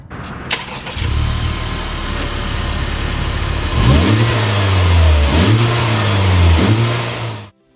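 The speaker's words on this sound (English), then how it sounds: "Alright, so now we get to the exhaust note." A Honda Civic Type R with a triple-pipe exhaust starts and idles, then revs three times in rising and falling sweeps, its exhaust note close, loud and fairly smooth before cutting off.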